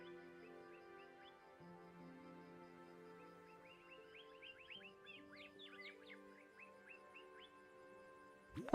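Birds in the video game Heartopia chirp in quick, light bursts of short tweets over a sustained, soft musical drone, growing busier midway, with no speech.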